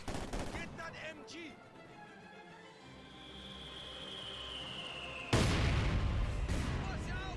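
A mortar barrage in the strategy game Company of Heroes 2 starts with a sudden loud burst of blasts near the end, after a quieter stretch of distant battle noise and someone talking.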